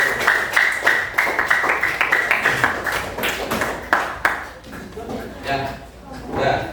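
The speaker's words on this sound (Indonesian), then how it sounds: "Silakan kembali tepuk tangan untuk nomor 1" Classroom audience claps hands during a teacher performance exam session, brisk bursts of clapping that thin out into scattered taps and faint voices toward the end.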